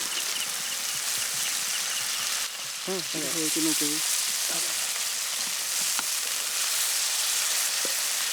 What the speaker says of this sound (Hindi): इसी तरह से भुनेंगे पहले मसाले को, थोड़ा गाजर कैप्सिकम